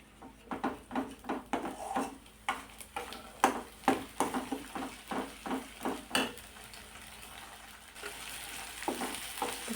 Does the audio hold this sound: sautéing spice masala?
yes